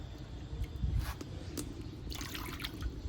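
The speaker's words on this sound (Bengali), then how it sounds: "এখানে 2 বাটি জল দিব।" Water poured into a pot for making rice roti, trickling and dribbling in bursts with a light splashing patter, close and moderately loud against faint outdoor background.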